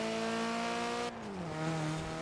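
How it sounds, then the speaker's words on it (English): Rally car engine holding a steady tonal drone, then dropping in pitch as the tires lock up and skid, with a brief scrubbing texture near the end; close and fairly loud, no talk. "The tires lock up there?"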